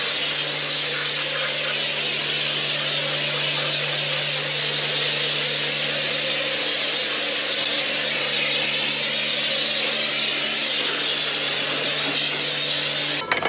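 A pressure washer cleaning a motorcycle at a wash station, giving a steady, loud, close hiss of spray with a constant pump drone underneath that runs without a break.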